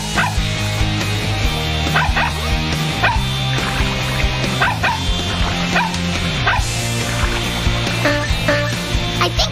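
A cartoon puppy yips and barks repeatedly in a children's TV show, the bright playful barks rising over continuous loud background music.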